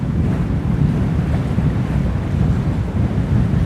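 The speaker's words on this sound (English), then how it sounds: "Waves are picking up." Stormy sea at Busselton, Western Australia, with waves surging and strong wind buffeting the microphone, a loud, dense, continuous low roar without talk.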